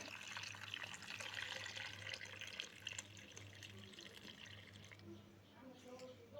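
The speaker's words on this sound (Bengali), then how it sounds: "আমগুলোকে ভালোভাবে ধুয়ে নিতে হবে" Mangoes are rinsed in water, with steady splashing and trickling like a running tap filling a sink, close by beneath a person talking.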